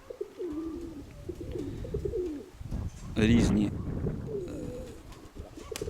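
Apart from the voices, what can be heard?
pigeons cooing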